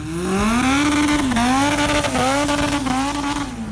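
A 500 horsepower Honda Civic drag race car, its engine revving loud and close with a rising, wavering whine as the revs climb and dip, a continuous strong roar throughout.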